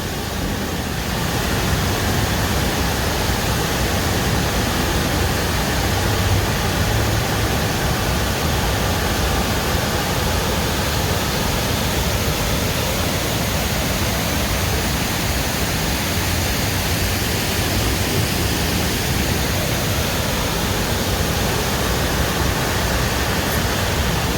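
A loud, steady roar of rushing floodwater pouring down a hillside in Jamaica fills the whole stretch, broadband and unbroken like a nearby torrent.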